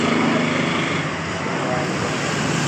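A Shahzad sewing machine with a fault that skips stitches and breaks thread runs continuously, giving a steady close mechanical whir with no pauses.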